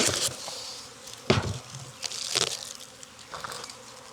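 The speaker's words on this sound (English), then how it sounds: "now it's time to take a peek at this swarm" A honeybee swarm buzzing at a hive in Jacksonville, Florida: a steady, close insect drone that swells in several louder bursts, with no talking.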